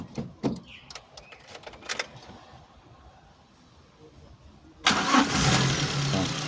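A Shineray T30 car engine cranks and catches partway through, then keeps running at a steady, fairly loud idle, following a few quieter clicks and knocks.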